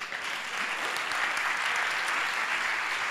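Steady, full applause from a comedy show audience, continuous and loud throughout with no talk over it.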